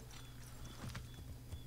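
Steady clip-clop of horse hooves at a walking pace in the video game Assassin's Creed 3, close and even, with a faint background hum.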